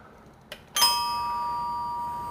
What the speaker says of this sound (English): So if you activate the bell